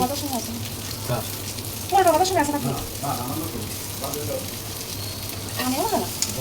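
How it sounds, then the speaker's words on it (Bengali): Marinated chicken pieces sizzle steadily in a hot frying pan as they are turned over, with a constant crackling fry and a few clinks from stirring, while someone talks over it. "এখন আমি উল্টে পাল্টে কিন্তু ভেজে নিচ্ছি"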